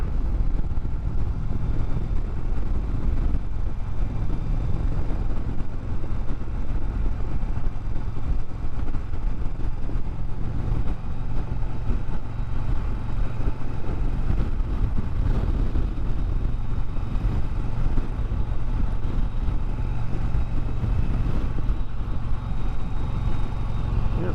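A motorcycle rides at steady speed with continuous engine and road rumble, loud and unbroken throughout, with wind noise and no clear bursts of acceleration standing out.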